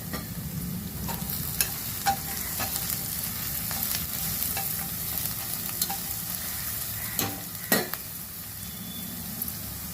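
Onion, okra and green chillies fry in a pan with a constant sizzle, broken by scattered scrapes and clicks of a spoon stirring against the metal, fairly close and with no voices.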